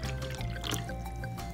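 Water is poured into a row of cups for a kids' rainbow walking water experiment, a soft, quiet trickling and splashing stream that runs continuously for a moment.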